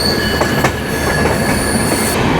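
The Ekota Express runs loud and close beneath an elevated expressway in Dhaka, with a dense rail roar, sharp wheel clicks and high screeching tones from the wheels carrying steadily throughout, with no voices.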